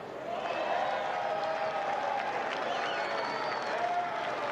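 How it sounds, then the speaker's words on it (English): Golf spectators at the Waste Management event clap and cheer around a hole, a moderate, steady wash of applause with scattered voices, somewhat distant. "So nice to hear people cheering on this hole"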